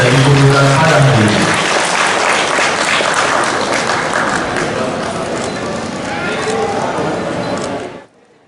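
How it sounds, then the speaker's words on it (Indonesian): Loud audience applause fills the hall at a university ceremony inaugurating new professors at Universitas Lambung Mangkurat, with an announcer's voice over the opening second, the clapping staying dense and steady before cutting off sharply near the end. "Marilah bersama kita berikan tepuk tangan yang meriah kepada profesor yang baru saja dikukuhkan hari ini."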